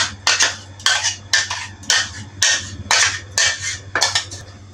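Dates and jaggery batter with cardamom and dry ginger being mixed in a bowl for unniyappam: a steady series of about eight sharp, scraping clinks of a utensil against the bowl at a regular beat, close and with no talk.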